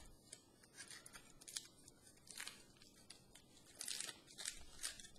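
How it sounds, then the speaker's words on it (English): Aluminum foil being handled and unwrapped, with bursts of crinkling and rasping rustle at close range, fairly faint and irregular, with no talking. "I'm trying not to tear the foil"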